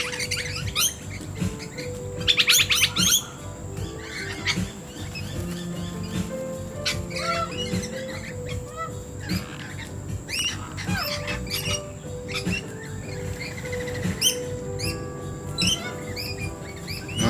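Corellas at a bird sanctuary call in harsh, screechy bursts, loudest in a cluster early on, against a constant backdrop of other birds chirping and a steady low hum.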